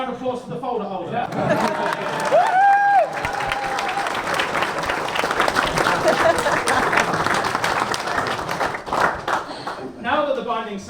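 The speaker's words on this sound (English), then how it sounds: "Ladies and gentlemen, a round of applause for the folder holder." Wedding guests clap and cheer during the ceremony, a lively, dense burst of applause lasting several seconds, with a few whoops and voices rising above the clapping before it thins out.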